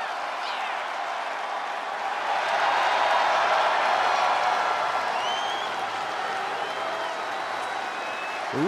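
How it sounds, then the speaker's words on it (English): Arena crowd ovation in the wrestling video game WWE 2K24, a sustained wash of applause and cheering that swells slightly in the middle and stays continuous for almost nine seconds, with no one speaking. "Listen to this ovation. The WWE Universe loves cheering on the EST."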